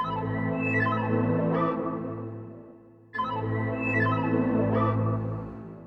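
Two-part synth loop layering melodic synth phrases over sustained strings and a warm pad, playing continuously and fairly loud, with a brief dip before the second phrase repeats; no voices.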